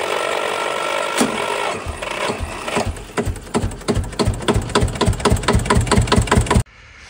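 A 1956 Steyr T84e tractor with a Steyr 113A diesel engine of 1330 cc runs close up, settling into an even, rapid chugging beat of distinct firing knocks that stops abruptly near the end.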